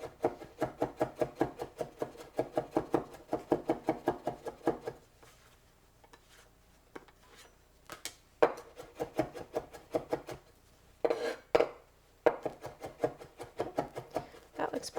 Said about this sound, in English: You just chop as much as you need.